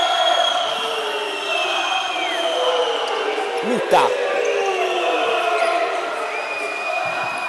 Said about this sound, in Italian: sale il tifo